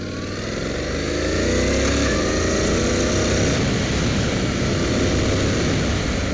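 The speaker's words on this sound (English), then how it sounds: "Now let's get this thing started up. Oh, listen to that lovely engine sound." A motorcycle engine runs steadily at a rough, throbbing idle, close and fairly loud, with no voices.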